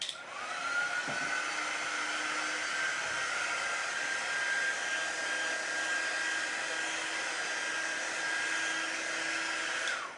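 A hair dryer blows in a continuous, loud, even whir up close as it dries a freshly painted small table riser, starting and stopping at the ends with no speech.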